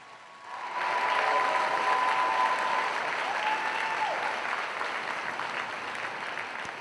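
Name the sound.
applause for nursing graduates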